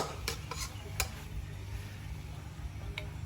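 A metal spoon scrapes and clinks against a pan while scooping out finished spicy stir-fried eel with shampoo ginger. A few quiet, sharp taps sit over a low background hum, and no one speaks.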